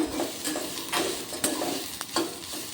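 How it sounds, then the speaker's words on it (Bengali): Boiled jackfruit seeds stirred in a hot frying pan, a close sizzle with repeated spatula scrapes about every half second, alone with no talk. "দিয়ে হালকা করে একটু নাড়াচাড়া করতে হবে"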